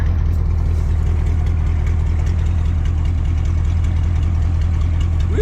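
A 1985 GMC 3500 truck engine runs steadily at idle with its wheels raised off the ground, a constant low rumble throughout with a faint knocking texture and no talk.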